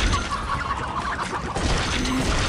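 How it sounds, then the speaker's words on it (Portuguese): Game chickens in Dead Trigger 2 giving scattered clucks amid a busy, noisy in-game background, fairly loud and continuous over a couple of seconds, with no speech. "É sério que só tem galinha aqui nessa partida"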